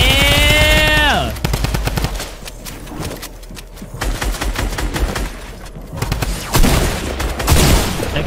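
Suppressed SMG gunfire in the Fortnite video game comes in loud, rapid bursts, one after another. Other busy game effects fill the background, and an electronic sweep opens the stretch.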